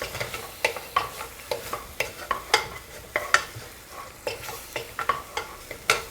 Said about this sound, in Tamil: தக்காளியுமே இது கூட நல்லா சேர்த்து நல்லா வதக்கி விட்டுறலாம்.